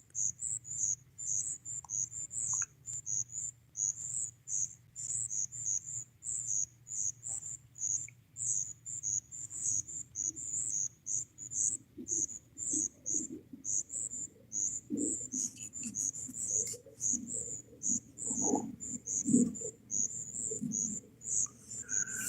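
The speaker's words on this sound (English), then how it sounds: "it's nice sitting out here hearing the frogs and the crickets" Crickets chirp at night beside a lock and dam, a loud, steady, fast-pulsing trill running throughout, with faint low rumbling and a few soft thumps underneath.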